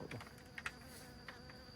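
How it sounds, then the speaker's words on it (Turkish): Buzzing of a flying insect, like a bee, hovering close by with a few faint clicks mixed in. "arı var. Arı, arı, arı, arı."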